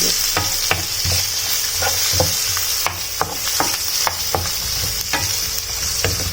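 Loud, continuous sizzling of dried fish frying in a pan, with repeated scraping and clinking strokes as it is stirred.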